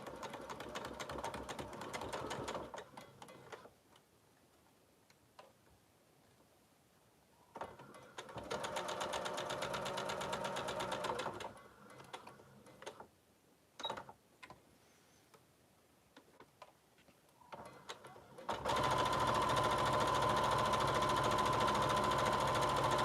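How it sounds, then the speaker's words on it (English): A sewing machine top stitches around a sling bag in several bursts of rapid mechanical chatter, separated by quiet pauses, with the final run the longest and loudest. "I'm just going to go and now top stitch all the way around."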